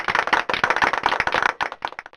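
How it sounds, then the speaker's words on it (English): A small group gives a light, polite round of clapping, brisk and even for about two seconds before thinning out into a few last scattered claps. "So, with a bit of a golf clap,"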